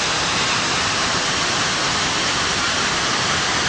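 Daranak Falls in Tanay pours in a dense, steady roar of falling water, loud and unbroken for the whole moment with no other sounds breaking through.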